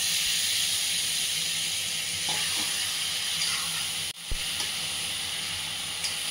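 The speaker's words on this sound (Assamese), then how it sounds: "আৰু প্ৰথম 5 মিনিট সময় মই হাই ফ্লেমতে এইখিনি ভাজিম" Marinated chicken fries on a high flame in a pan with cumin, coriander powder and spices. A loud, dense, continuous hiss fills the scene, broken once by a brief knock midway.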